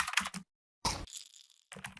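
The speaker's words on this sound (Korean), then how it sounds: "키보드 치는 소리도 일반적인 키보드 소리만 쓰기에는 너무 얇은 느낌이 나서" Rapid computer keyboard typing, close and clicky, in short bursts of keystrokes broken by a brief pause.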